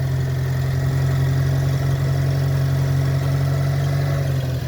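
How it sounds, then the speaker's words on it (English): A car engine idles steadily with a low, constant drone and hum, close and unchanging, with water coming from the exhaust; no voices. "umsi amanzi aphuma kwi-exhaust"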